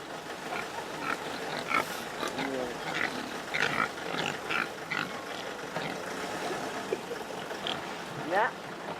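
Pigs with rings in their snouts grunt and squeal intermittently at a farm in Extremadura, several short nasal calls scattered over steady outdoor background noise, near to mid-distance.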